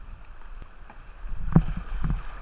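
A kayak paddle dips into gentle moving water, giving soft low splashes and gurgles with a couple of stronger strokes over faint wind noise.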